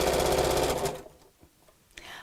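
A sewing machine top stitches a fat-quarter tote bag in a loud, rapid, even run that stops after about a second, followed by quiet handling sounds and a brief voice.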